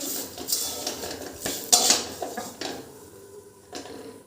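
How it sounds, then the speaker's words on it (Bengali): Cooked taro leaves being served from a pot onto a plate in a Bengali home kitchen, with clinking metal cutlery and dishware scraping in a few close, sharp bursts. "এই যে কচুর শাকটা একটা প্লেটে নামিয়ে নিলাম।"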